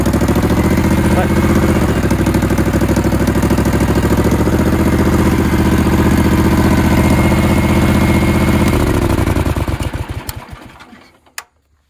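A 35HP V-twin engine on a Sears/Roper riding tractor runs loud and close with a steady throbbing idle for about ten seconds, then is shut off and sputters to silence.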